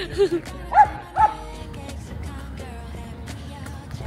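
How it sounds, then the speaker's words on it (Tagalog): A small dog gives a few short yips or barks close by, then falls quiet while outdoor ambient noise continues. "Cute ng aso."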